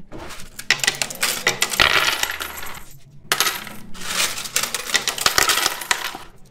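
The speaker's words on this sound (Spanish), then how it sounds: "Le hemos estado metiendo tanto monedas de 10 como monedas de 5 pesos." Peso coins, 10- and 5-peso pieces, drop into a coin box in two bursts of bright clinking and rattling metal, close and fairly loud, separated by a brief pause, with no talking.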